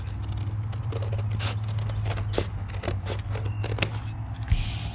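Scissors snipping through paper while cutting a tessellation shape, a series of sharp crisp cuts at an irregular pace over a steady low background hum, close and fairly loud.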